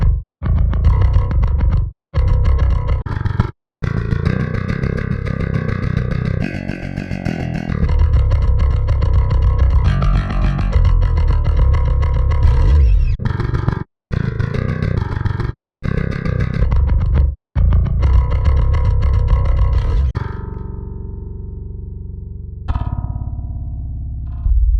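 A DI bass tone from the L.E.A.D bass VSTi plugin plays a dense, driven riff with abrupt stops and short gaps, then a final low note that rings out and decays.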